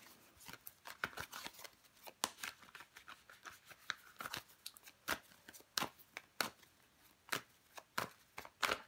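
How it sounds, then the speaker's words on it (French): Tarot cards being turned over and laid down on a table, a series of soft crisp flicks and slaps at an irregular, quickening rhythm, close and quiet with no speech. "Je vais recouvrir des cartes, les Sagittaires."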